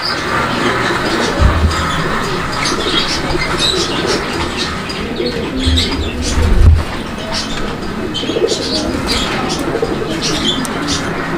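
Pigeons coo in low, throaty bursts near the mic over a busy background of chirping birds and a steady rumble, with a couple of louder coos standing out.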